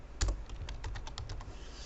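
Fingers type quickly on a computer keyboard up close, with about a dozen crisp clicks in an uneven run and one heavier thump near the start.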